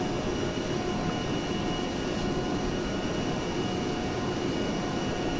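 An A-10C Thunderbolt II flies high in the ARMA 3 video game, its engines a steady, dense roar filling the whole stretch with no speech.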